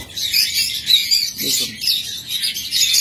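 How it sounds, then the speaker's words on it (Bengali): A pair of black pied lovebirds in a cage chatter with busy high-pitched chirps and squeaks, continuous and close, with a faint low murmur briefly underneath. "তারপরে এখানে রয়েছে একটা ব্ল্যাক পিস্টার জোড়া, দেখুন দেখুন"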